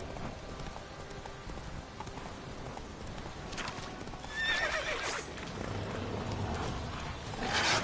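Horse hooves clip-clop steadily in The Witcher 3 video game, followed by a loud, close neigh and whinny, with game ambience continuing throughout.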